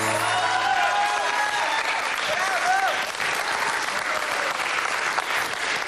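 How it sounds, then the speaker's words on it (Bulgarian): Steady, dense studio audience applause on a Bulgarian TV game show fills the whole stretch, loud and continuous, with faint voices mixed in at the start. "Айде, пляскаме."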